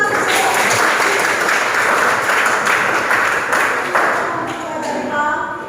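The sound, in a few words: class applause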